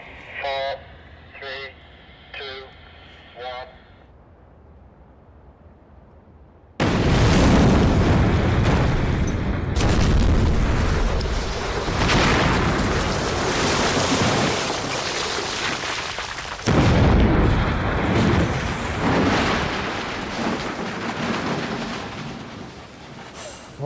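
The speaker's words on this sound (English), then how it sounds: "that was a much bigger explosion than I expected" A large explosion at a blast demonstration recreating wartime street bombing, heard after a spoken countdown as a sudden massive boom with a long roaring, rumbling tail and a second heavy surge, very loud and close.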